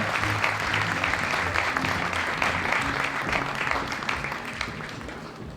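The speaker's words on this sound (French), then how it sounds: "Je vous demande maintenant d'applaudir Evelyne, Olivier et Bruno." An audience applauds steadily, a dense patter of many hands clapping that slowly fades toward the end, greeting performers at a stage show.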